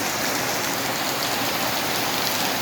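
Heavy rain pours down at an elementary school in a steady, dense hiss of drops drumming on surfaces. It is loud and constant with no breaks and no voices.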